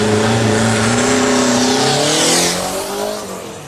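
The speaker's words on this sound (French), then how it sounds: "sur cette R5 Alpine Turbo de 1983" A 1983 Renault 5 Alpine Turbo races past at a historic hillclimb, its engine roaring loud and close with rising and falling revs as it passes, then fading slightly as it pulls away.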